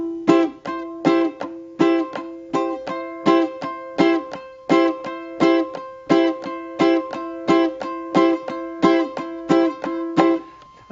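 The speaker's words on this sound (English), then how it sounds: "A touch, and then a strum with damping." Ukulele strummed in a steady repeating pattern, a light touch followed by a damped strum, giving about two dozen crisp, evenly spaced chord hits with short choked decays, played alone and close up.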